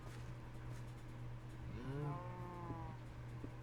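A single drawn-out cow moo in Minecraft rises and falls over a steady low game hum, fairly quiet and heard alone with no talking.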